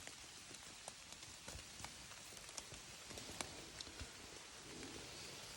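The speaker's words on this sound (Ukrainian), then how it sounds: "Дощ трошки слабший, але просто що збирає" Steady light rain patters on surfaces nearby in a forest, with scattered louder drips and taps over a constant wash of falling water.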